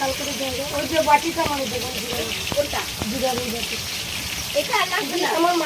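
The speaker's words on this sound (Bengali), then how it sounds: "এই যে তেলের মধ্যে সব মাছগুলো এখন দিয়ে দিয়েছে" Spice-coated hilsa fish fry in hot oil with cumin and green chillies, making a constant crackling sizzle while someone talks over it throughout.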